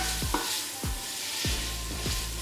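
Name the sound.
paneer sizzling in frying oil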